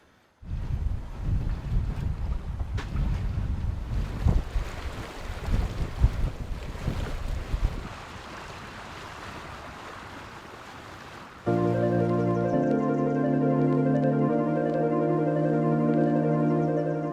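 Sailboat gliding close past rocky islands in light wind, with soft wind buffeting and water rushing along the hull for several seconds, then a steady tonal hum takes over for the rest, with no talk.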